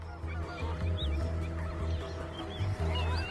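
Migratory waterfowl honk repeatedly at the Ras Al Khor wetland reserve in Dubai, goose-like calls overlapping over a constant background hum, moderately close, with no speech.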